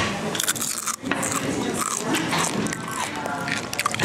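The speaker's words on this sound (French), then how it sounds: "Regardez celle-là comment elle croustille." Hot, crispy Belgian fries being bitten and chewed up close, giving repeated sharp crunchy crackles in an irregular rhythm, with talking in French mixed in.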